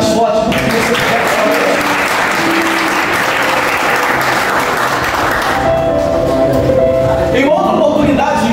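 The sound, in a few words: congregation applauding in church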